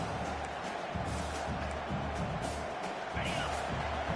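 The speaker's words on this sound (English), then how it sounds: "Listen to this crowd just shaking the girders of this place, trying to help their defense." A large football stadium crowd roars to back its defense, a dense, sustained wash of noise heard at a distance with no distinct claps or peaks.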